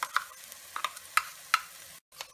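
Blended masala paste hitting a hot pan for brinjal masala, giving short bright sizzling bursts as it is stirred, about five quick clustered pulses followed by a brief silence and one last faint sizzle.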